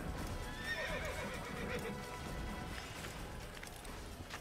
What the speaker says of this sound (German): Und das Pferd hat auch gebockt.